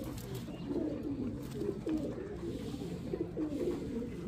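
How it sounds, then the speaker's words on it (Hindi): Pigeons bought from a Karachi net-trapping dealer coo in a soft, low, continuous murmur, several birds close by with steady overlapping calls throughout. "किस नस्ल में से ये कबूतर है।"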